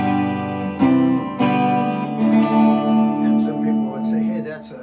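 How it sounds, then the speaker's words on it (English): Ibanez Artcore 12-string guitar played straight into a Fender amplifier with no compression, a few strummed chords ringing out loudly, with speech over the strings. "So this is the sound of the guitar without compression."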